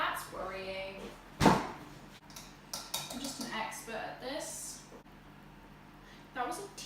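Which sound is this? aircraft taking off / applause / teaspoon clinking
teaspoon clinking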